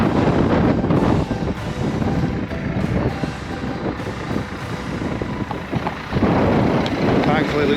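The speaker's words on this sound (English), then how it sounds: "So windy." Strong wind on a farm buffets the microphone in loud, continuous rumbling gusts, with a brief voice partly buried beneath it.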